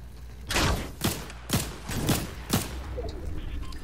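A red eye assault rifle with a red dot scope fires in Fortnite: five sharp, loud single shots about half a second apart, each with a short decay, over faint background game ambience.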